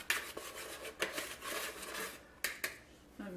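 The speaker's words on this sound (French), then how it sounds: "On commence par mélanger comme des ingrédients secs." A utensil mixes dry ingredients in a bowl for sweet breakfast baking: light scraping and rubbing strokes with a few sharp clinks against the bowl, close and fairly quiet, with no talking.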